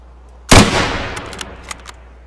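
A single loud, close gunshot in a woodland shooter game as a scav goes down, a sharp crack followed by a decaying tail and a few faint clicks.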